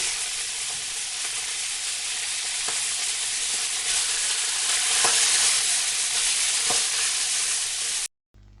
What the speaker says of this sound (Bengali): এবার এগুলোকে গরম তেলে দিয়ে বাদামি কালার করে ভেজে নিচ্ছি।